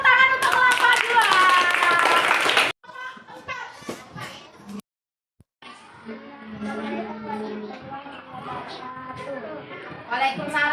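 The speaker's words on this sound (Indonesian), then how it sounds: "Tepuk tangan untuk kelapa dua." A classroom group of children claps together in a brief burst of applause, followed by a teacher speaking and children chattering and calling out in a lively room.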